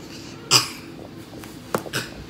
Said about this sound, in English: Fake coughing.